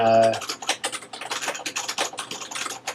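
Rapid typing on a computer keyboard, a close run of light irregular key clicks after a short opening tone, with no talking.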